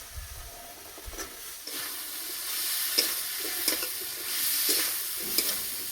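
Steady sizzling of drumsticks stir-frying with fried spices in a pan, with scraping stirs and soft clinks of a spatula coming at irregular intervals throughout.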